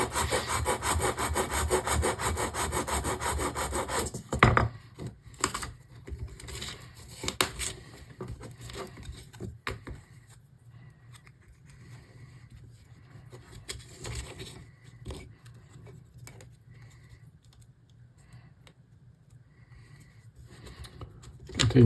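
Wood block edges being rubbed with sandpaper against a metal edge: a loud continuous scraping at first, then intermittent softer strokes and pauses, close up.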